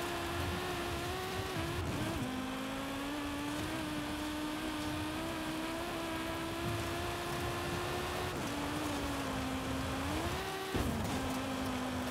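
Audi Quattro S1 engine held at full throttle in Forza Horizon 5, a steady high-revving drone with brief dips at gear shifts, loud and close with no talk over it.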